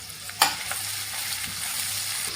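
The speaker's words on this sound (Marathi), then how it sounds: "तर आता लसूण छान असा मस्त खरपूस तेलामध्ये फ्राय करून घ्यायचा आहे" Crushed garlic and ginger, with a pinch of asafoetida, fry in hot oil in a pan, giving a soft continuous sizzle with one brief sharp clatter near the start and no voices.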